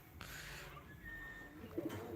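Soft, low pigeon coos murmur close by in a quiet pigeon coop, with faint rustling and a brief higher call near the end.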